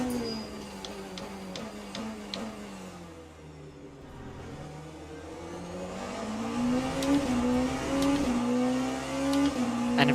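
A race car engine in Le Mans Ultimate at Portimao, a steady whining drone that dips and then climbs as it revs higher, smooth and continuous with no talk.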